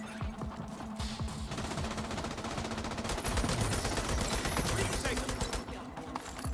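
Sustained machine gun fire in the shooter game The Division 2 hammers away in rapid, dense bursts, loud and close throughout, layered with other gunfire.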